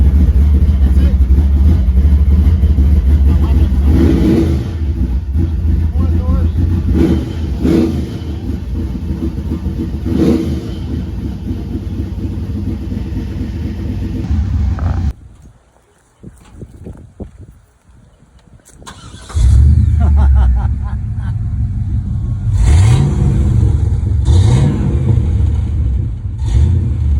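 A nitrous-fed 632 big block engine roars and revs in loud repeated bursts, cuts out abruptly for a few seconds, then fires back up and keeps revving while people talk nearby.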